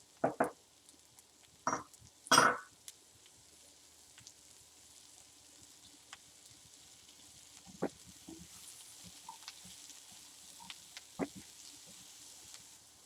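Onion and zucchini frying together in a frittata pan give a faint, steady sizzle, broken early by a few louder clatters and scrapes of a utensil, then sparse soft ticks and pops.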